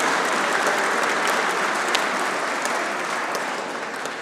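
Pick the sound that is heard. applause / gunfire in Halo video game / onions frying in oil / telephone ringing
applause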